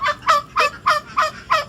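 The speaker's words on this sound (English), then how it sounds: "then you got the little turkeys right there. They are extremely noisy." Young turkeys gobble close by in a loud, regular series of six rapid bursts, each call a warbling, rattling gobble separated by short pauses.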